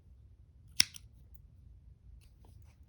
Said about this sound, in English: I'm gonna cut.